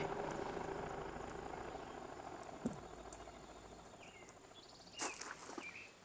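A helicopter drones steadily in the distance, its rotor rumble slowly fading, with scattered insect chirps and a few faint rustles nearby.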